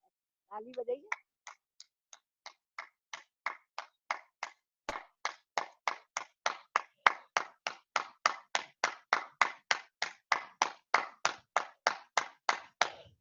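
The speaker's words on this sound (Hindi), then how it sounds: "ताली बजाइए।" A group claps hands together in a steady, even rhythm at the close of a yoga session, starting with a few scattered claps and settling into about thirty crisp, evenly spaced claps.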